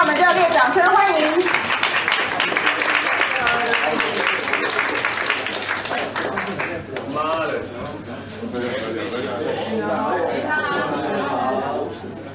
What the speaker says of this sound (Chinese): 让我们热烈掌声欢迎